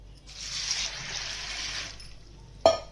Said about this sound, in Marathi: आता स्वच्छ धुवून घ्यायचा 2-3 पाण्याने